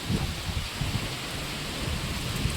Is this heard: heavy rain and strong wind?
yes